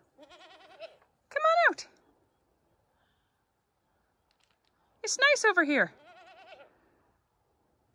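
Goats bleat in a farmyard pen, a few wavering cries near and clear, spaced between stretches of quiet while a person calls to them.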